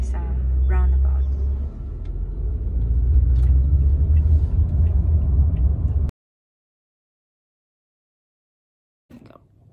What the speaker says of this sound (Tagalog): So, nakasakay na ako sa taxi. Pupunta na tayo sa Sarja English School.